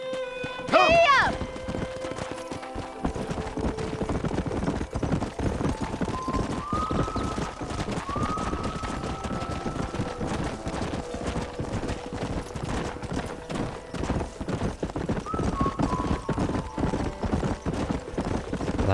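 Horse hooves galloping in the Red Dead Redemption video game, a fast, steady clip-clop rhythm throughout after a brief whinny at the start, with speech and game music over it.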